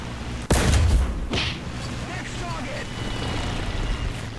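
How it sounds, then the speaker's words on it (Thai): Explosions in the video game War Thunder go off as one loud, sharp boom followed by a second, smaller blast, then a low rumbling tail beneath faint voices. "เสียงระเบิดที่ไหนวะ"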